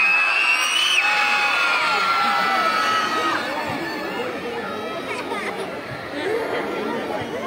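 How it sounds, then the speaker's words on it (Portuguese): Crowd of children shouting and cheering loudly for Santa Claus at an outdoor Christmas celebration in Xanxerê, Santa Catarina, with whoops and excited chatter forming a continuous, dense roar throughout. "Toda criançada vai dar um grito agora e vai gritar bem alto pro Papai Noel."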